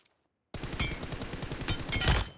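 A rapid burst of automatic gunfire in PUBG Mobile on an emulator, starting abruptly after a short silence and rattling loudly and close for about two seconds.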